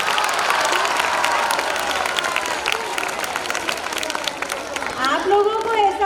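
An audience claps at a school Republic Day celebration, sustained crowd applause with a murmur of voices, and speech rising clearly near the start and again at the close.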